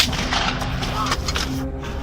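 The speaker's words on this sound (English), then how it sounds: "More shots being fired right now." Gunfire from a mass shooting in Minnesota rings out as a dense, continuous barrage of loud, reverberant shots and booms with no clear gaps between them.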